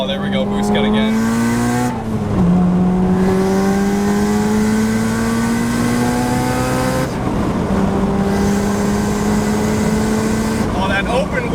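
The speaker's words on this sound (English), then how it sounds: "Oh, that open wastegate is all you can hear." A turbocharged Honda Integra with an open wastegate accelerates hard in repeated pulls, its engine note climbing in steady ramps with brief drops at gear changes, loud and close from inside the car while people talk over it.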